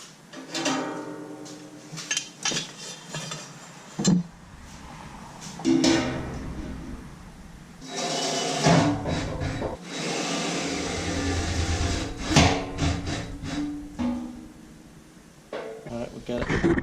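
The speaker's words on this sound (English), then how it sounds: "to attach this little funnel, you're just going to use these 4 silver screws. They're metal screws, so you'll screw them right through the metal" Four silver metal screws are driven through sheet metal to fasten a small funnel on a deer feeder. Bursts of whirring from the driver come in spurts, mixed with clanks and a person talking.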